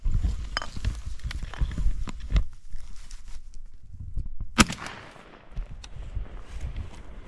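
A 20 gauge Bronc AFNA 3 inertia-system shotgun fired outdoors in a recoil test, with a few sharp reports spaced apart among rustling and handling noise, one shot standing out louder near the middle.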